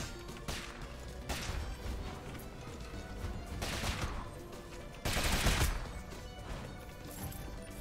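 Fireworks go off outside, several irregular booming, crackling bursts heard at a distance, the loudest near the middle, over steady background music.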